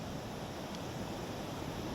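Sea waves wash steadily onto a beach, a soft, continuous rushing surf with no distinct breaks, heard quietly and alone.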